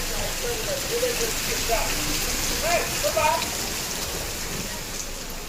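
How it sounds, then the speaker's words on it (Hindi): Heavy rain pours steadily in Mungeli, Chhattisgarh, a dense, even hiss of drops that lasts throughout, with a faint voice murmuring beneath it. "मुंगेली में रुक रुक कर झमाझम बारिश हो रही है।"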